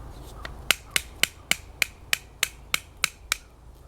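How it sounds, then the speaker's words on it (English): Mora Clipper knife being batoned through a piece of wood outdoors, about a dozen sharp, evenly spaced knocks in steady rhythm, close and crisp with no talking. "Using this Mora, you can actually baton with it, but I don't suggest overexerting this knife."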